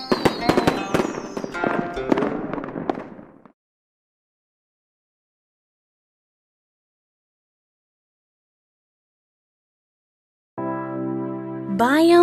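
Fireworks for a Chinese New Year celebration crackle and pop densely for about three seconds, followed by a long silence and then a sustained tonal sound near the end.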